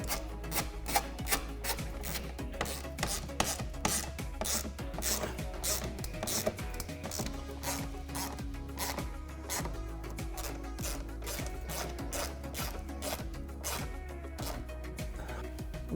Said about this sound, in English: Now we can tighten everything up.